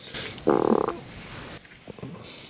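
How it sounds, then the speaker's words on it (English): Frogs croaking at a wild campsite in the UK before a storm: a loud rapid burst of ratcheting croaks, then quieter scattered calls against a faint outdoor background, with no talking. "Frogs."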